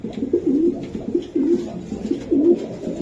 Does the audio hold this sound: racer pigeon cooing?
yes